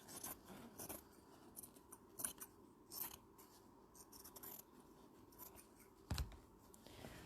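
Scissors rough cut around paper pieces for a collage, quiet close snips and rustling paper in an irregular series of short cuts, with one firmer snip near the end.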